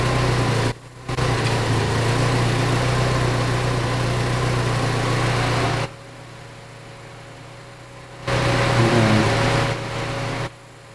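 A Saab 90 engine running lean after a carburettor rebuild, idling with a steady drone that drops away and returns, then rises briefly in a rev before settling, close and loud with no voices.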